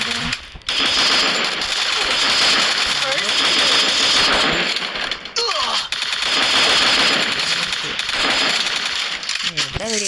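M4A1 rifle fire in a video game comes in dense, rapid bursts separated by short pauses, loud and close, while someone talks excitedly over much of it.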